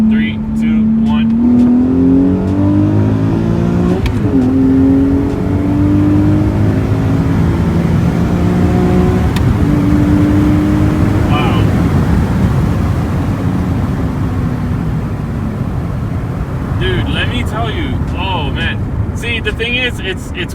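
A Nissan 370Z fitted with a Stillen Gen 2 intake accelerates hard on a test pull, its engine loud and close, with the pitch climbing in long sweeps, easing briefly between gears, then steadying to a sustained roar.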